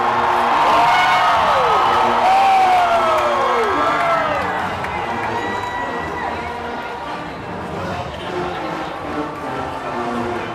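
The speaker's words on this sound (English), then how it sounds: "We hear the applause, and the crowd roars." A college football gameday crowd at LSU's stadium for the McNeese game, loud and close: a dense roar of cheering and whoops with applause, and some voices and shouts rising over the wash before it eases slightly toward the end.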